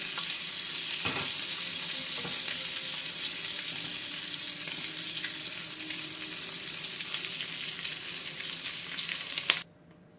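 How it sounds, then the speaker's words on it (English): Shrimp sizzle loudly and steadily in a hot frying pan, a constant crackling hiss with a couple of utensil clicks before it cuts off abruptly. "we're getting a really nice golden sizzle on them."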